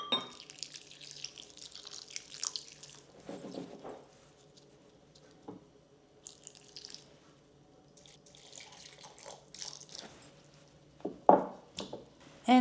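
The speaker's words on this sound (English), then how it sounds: "This is 1 cup hot water, just going to use as much as it needs." Hot water, about a cup, poured over dates in a bowl to soak, making a close, soft, uneven trickle and splash that comes in bursts with quiet pauses between, then a few louder splashes near the end.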